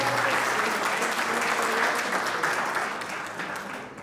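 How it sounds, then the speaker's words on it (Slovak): An audience at a high school graduation ribbon gala applauds a volunteer in a steady, dense wash of clapping that holds strong and then slowly fades toward the end. "Poprosím potlesk, veľký potlesk."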